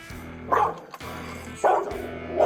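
Pit bull barks three times, close and loud, with short gruff woofs spaced about a second apart.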